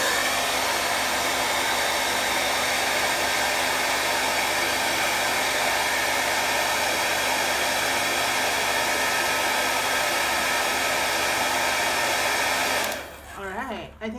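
A hair dryer blowing on acrylic paint, a loud steady whooshing whine held at close range for about thirteen seconds before it cuts off abruptly.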